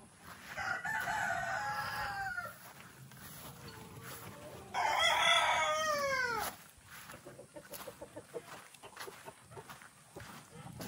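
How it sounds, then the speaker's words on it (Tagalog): A rooster crows loudly twice, long drawn-out calls with a falling end, amid background noise and faint clucking. "Ayan, yung manok."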